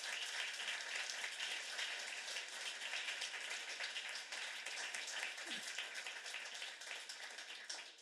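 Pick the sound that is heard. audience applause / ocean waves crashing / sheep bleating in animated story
audience applause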